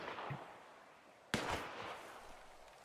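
Gunfire from a battle royale video game in tournament play: a faint shot, then a sharper, louder report about a second later, fading into a low background.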